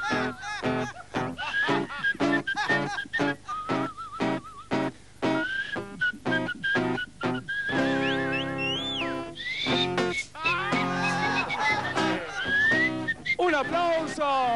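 A person whistles a melodic tune up close, sliding and warbling between notes in phrases with short breaks between them, during a live singing show.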